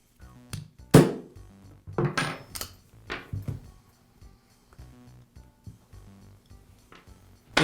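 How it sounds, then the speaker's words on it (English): A metal punch knocks the post out of the button on a Makita reciprocating saw during repair, giving a few sharp metallic taps and clinks, then quieter handling of small parts. "I'll use a punch to remove the post from the button."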